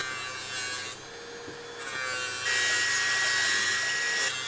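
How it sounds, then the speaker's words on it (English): A benchtop polisher runs a brush with polishing compound over an electroformed copper skull, giving a steady high electric whir that shifts in pitch and grows louder as the piece is pressed to the wheel, with no voices. "Over at the benchtop polisher, we're gonna first do a triple E on a brush, then a triple E on a buff"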